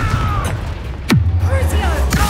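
A Confringo fire spell from a Harry Potter video game goes off in a loud whooshing blast with a falling sweep, and a low rumble follows it over a busy game soundscape.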